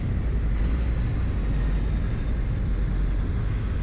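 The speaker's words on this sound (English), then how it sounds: "it does sound like they're shutting down" Engines of a Saunders-Roe SR45 seaplane in the X-Plane flight simulator winding down, with a steady loud low rumble and drone that holds even throughout with no talk.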